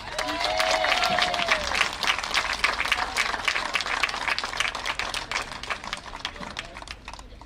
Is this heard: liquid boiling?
no